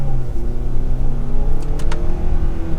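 A 2022 Hyundai Santa Fe XRT with the 2.5L engine and all-wheel drive accelerates, heard from inside the cabin as a steady, loud engine drone with rising tones and road rumble, no voices.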